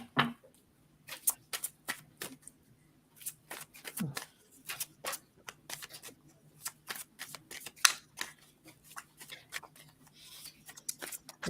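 A deck of cards shuffled for a card reading, with rapid riffling bursts and soft snaps repeating close to the microphone in a quiet room.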